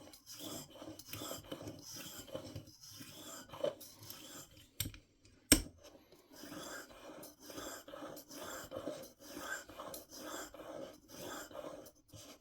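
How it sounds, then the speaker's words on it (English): A curved steel broadhead is sharpened by hand in rhythmic rasping strokes, each one a short scrape that repeats at an even pace. There is a brief pause and a sharp click partway through, and the sound is quiet and close. "when you're sharpening one of these curved broadheads"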